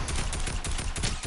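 Rapid bursts of video game gunfire crackle in quick succession, dense and continuous, with no voices.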